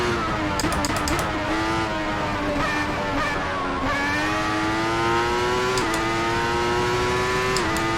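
A 1994 Formula 1 car at the German Grand Prix in Assetto Corsa screams close and loud, its high-revving engine note climbing steadily and broken by several sharp gear shifts.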